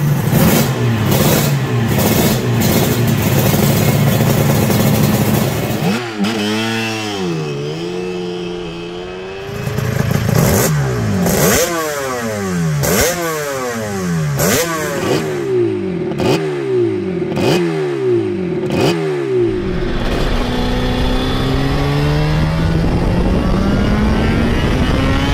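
A two-stroke engine, presented among the best two-strokes ever made, revs loudly and repeatedly, its pitch climbing and falling through several sharp throttle blips with a raspy, crackling edge.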